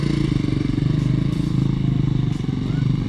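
A motorcycle rides down a dirt track, its engine droning loud and steady with a throbbing pulse throughout, close to the microphone, with faint scraping and clatter on top.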